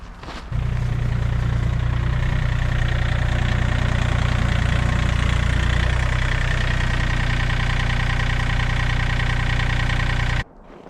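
A log splitter engine starts and runs at a steady, loud idle for about ten seconds, then cuts off abruptly. No voices are heard.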